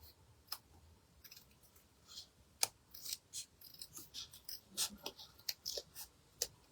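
Scissors snipping around flowers on a handmade card, a run of short, crisp close-up cuts that grow busier and louder toward the end, with no talking.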